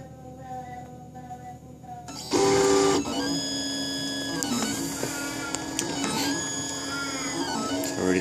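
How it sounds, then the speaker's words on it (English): A Printrbot Simple Metal 3D printer starts a print, its stepper motors whirring and buzzing in shifting tones close by after a quiet opening, with steady mechanical movement throughout. "When it starts printing, it's kind of cool because you can see it self-level."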